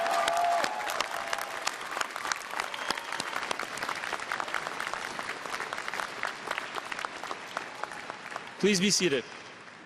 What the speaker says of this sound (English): give loud cheers and applause to show your appreciation and love for your parents